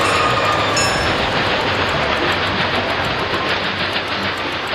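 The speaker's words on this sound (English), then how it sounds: "And it looks like we've got a train to wait for." A GP7 diesel locomotive train rolls steadily past at a railroad interchange where the branchline crosses the C&O, a loud, continuous broadband rumble of wheels and cars, close by and unbroken throughout.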